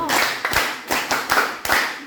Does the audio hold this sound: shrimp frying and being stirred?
no